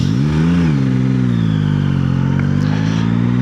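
Yamaha MT-09 motorcycle engine with strong, steady induction growl as the throttle is twisted, pitch rising slightly then settling into a loud continuous drone, close and without talk.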